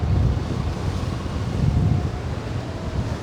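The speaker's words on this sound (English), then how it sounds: "Some big waves crashing against the seafront there." Big storm waves crash against a seafront in Paphos during Storm Byron, a continuous loud roar of surf with low rumbling swells, heavily buffeted by wind noise on the microphone throughout.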